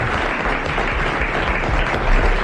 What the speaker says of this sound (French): vous applaudissez Monsieur Ruget de Courbevoie.